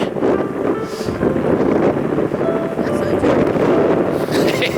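Strong wind roars loud and unbroken across the microphone, a thick, gusty rumble that buffets steadily from start to finish.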